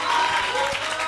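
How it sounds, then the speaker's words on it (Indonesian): An audience applauds the teams at the final of an Islamic school competition, with a burst of dense clapping from a crowd. Brief, with talking over it. "Boleh tepuk tangan yang meriah untuk masing-masing regu"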